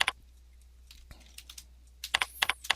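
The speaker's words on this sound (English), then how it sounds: "So I'm just going to type in the word trial period, appeal, and finally" Fingers typing on a computer keyboard, a few scattered soft keystrokes followed by a quicker burst of sharp clicks, close and fairly quiet with no voices.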